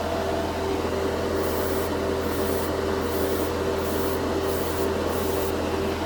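Airbrush spraying a final wet coat of Vallejo Shift paint onto a scale model, a steady continuous hiss with a constant tone beneath and faint periodic pulses, close and unbroken throughout.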